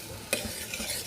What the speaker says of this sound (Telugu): పచ్చివాసన పోయేంత వరకు ఫ్రై చేయాలి.